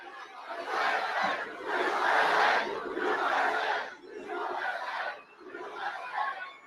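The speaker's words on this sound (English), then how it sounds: "This is a big crowd." A large crowd roars at a political campaign rally in Waterford Township, Michigan, swelling in loud rhythmic waves of chanting and cheering, roughly five surges with brief dips between them.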